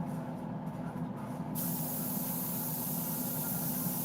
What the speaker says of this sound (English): it's basically that spray pattern I want, where it's looking a little bit misty on the outside.